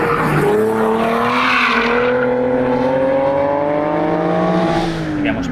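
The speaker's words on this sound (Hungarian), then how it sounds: "most már látszott, hogy erőből csúsztatja be, hogy tudjon fordulni" A Nissan 370Z or Infiniti G37 S Coupe with a V6 slides through a corner under power, engine note rising steadily with tire squeal, loud and close, and a voice talks over it.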